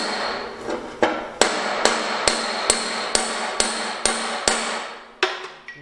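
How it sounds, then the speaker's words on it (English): A hammer strikes a part being fitted into the steering of a 1971 Gravely 430 tractor, about a dozen sharp metallic blows at a steady pace, each ringing briefly, loud and close. "We might need to get it with a better hammer."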